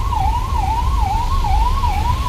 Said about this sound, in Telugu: అంబులెన్స్ వస్తున్నప్పుడు కొంచెం సైడ్ అని ఇవ్వాలా